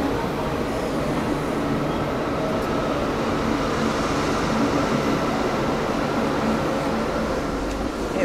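Indian Railways Nizamuddin–Raigarh Gondwana Express passing close by as a steady, loud rumble of wheels and coaches, continuous throughout without a break.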